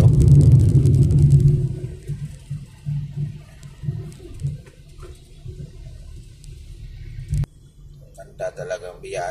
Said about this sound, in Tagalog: ingay yung sa ilalim, parang umuulan